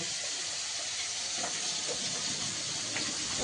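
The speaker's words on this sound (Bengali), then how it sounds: "মাছ ভাজা চলছে" Fish fries in a pan of hot oil in a home kitchen, giving a continuous dense sizzle and hiss with small crackles, close and steady throughout.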